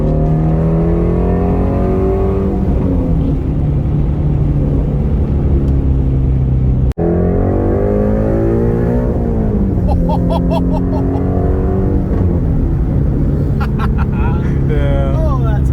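A Ford Mustang Shelby GT350 engine pulls hard and rises in pitch through second and third gear, loud and close, with brief shifts breaking the climbing roar and talk underneath.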